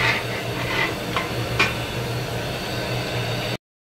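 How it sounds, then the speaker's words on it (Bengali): Jackfruit frying in a pan gives a steady low sizzle, broken by a few scraping strokes of a spatula against the pan, then cuts off abruptly with no voices. "এই ইঁচড় ভাজা হচ্ছে, ইঁচড় চিংড়ি হবে, ইঁচড়টা ভাজা হচ্ছে।"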